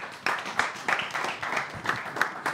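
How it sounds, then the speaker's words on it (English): Audience applause for student union sabbatical officer election candidates at a question-time event, a fairly close, uneven patter of hand claps with distinct individual claps standing out. "Please, a round of applause for all the candidates."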